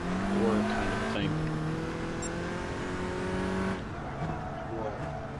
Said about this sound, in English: Yes, the backfires are back.